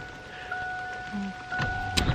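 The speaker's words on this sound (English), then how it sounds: "raining with the sun out" Steady rain falls outdoors on a warm, calm day with the sun out, a soft continuous patter and hiss with no wind, moderately quiet throughout.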